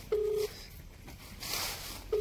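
A telephone ringback tone on an outgoing call, two steady electronic ring pulses separated by a pause, fairly faint and clear, with soft rustling and handling noise in between.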